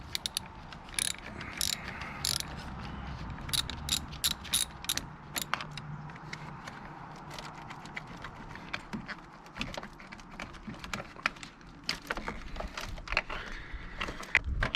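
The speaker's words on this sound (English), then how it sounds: "we're using a wobble 10mm socket to get that off" A 10mm wobble socket on a ratchet loosening a car battery terminal: a long run of quick, close ratchet clicks in irregular bursts with short pauses, no talk.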